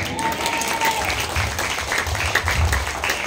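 Dense, sustained applause from a church congregation praising the Lord, a steady wash of many hands clapping, loud and continuous throughout with faint voices mixed in.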